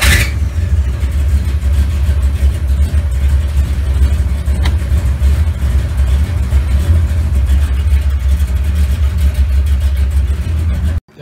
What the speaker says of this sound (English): you see we got the car started, we didn't push any gas or nothing